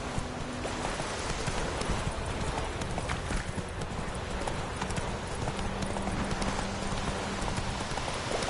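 Roach, a horse in The Witcher 3, gallops with rapid continuous hoofbeats over a dense, loud wash of noise, steady for the whole stretch.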